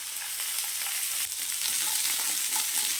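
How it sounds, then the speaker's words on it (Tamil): Small onions frying in a little oil for a Tamil dry fish curry, a steady, close, hissing sizzle with faint crackles and occasional stirring, continuous and unbroken without speech. "நல்லா வெங்காயம் வதங்கட்டும்."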